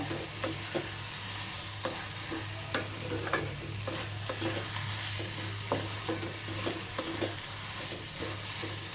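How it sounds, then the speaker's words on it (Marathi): Egg bhurji made from two eggs is stirred in a hot pan, the frying sizzle steady and close while the spatula scrapes at an irregular pace, with a low steady hum underneath and no talking. "इथे भुर्जी अशी छान हलवून घ्यायची आपल्याला."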